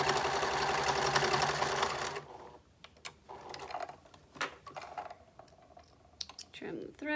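A sewing machine runs steadily and close for about two seconds while stitching a fabric mask, then stops, leaving scattered small clicks and handling noises of fabric and thread.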